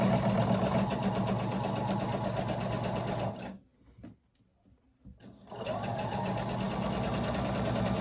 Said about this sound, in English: You can actually sew it all the way to the edge if you want.